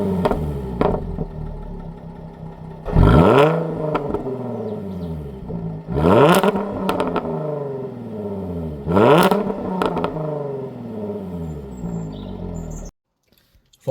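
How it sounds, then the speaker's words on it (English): A Jaguar F-Type with its standard exhaust and the valve open revs loudly three times at evenly spaced intervals, each burst climbing sharply and then dropping away. Birds chirp outdoors in the background, and the sound cuts off abruptly at the end. "this is the standard exhaust with the valve open, and it's unbelievably loud."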